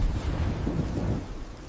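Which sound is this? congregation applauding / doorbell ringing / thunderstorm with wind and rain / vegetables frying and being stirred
thunderstorm with wind and rain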